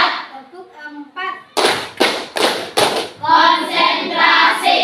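Rhythmic clapping routine in a classroom, with a group of children striking their hands together in a few sharp, loud, evenly spaced claps between bursts of a teacher's and pupils' chanting voices.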